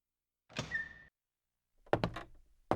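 A door in the video game Galerians opens with a sliding, humming swoosh, then after a pause come a few clunky mechanical knocks and thuds, close and distinct against silence.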